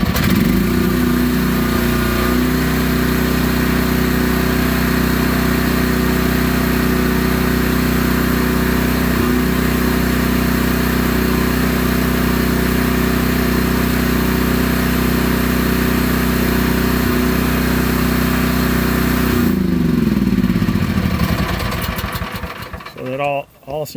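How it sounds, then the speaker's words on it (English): Small diesel engine of a Chinese mini excavator idling with a steady low drone, then revving up near the end, loud and close throughout. "Let's go ahead and start it at idle. So that's at idle, and then we'll ramp it up."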